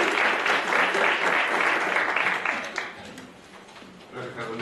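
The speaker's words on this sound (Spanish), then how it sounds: "Por favor, demos un aplauso de bienvenida" Welcome applause from a lecture audience at a talk on criminal theory in penal proceedings: a dense, steady wash of clapping that thins out after about three seconds, with some voices faintly underneath.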